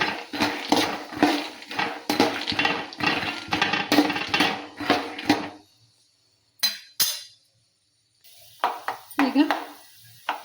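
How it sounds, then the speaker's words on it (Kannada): Peanuts stirred into cumin and mustard seeds frying in oil for avalakki chuda, with sizzling and spoon scrapes and clinks for about five seconds, then quiet with a few short clatters and a final burst of stirring. "ಶೇಂಗಾ ಹಾಕಿ ಮಿಕ್ಸ್ ಮಾಡ್ತೇನೆ."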